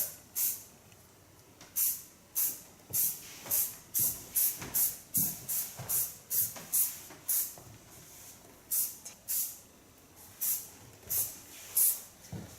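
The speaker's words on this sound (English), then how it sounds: "Disinfectate a bit with a soft hairspray" Soft hairspray sprayed onto curly hair, a long series of short sharp hissing bursts in a fairly steady rhythm, close and clear.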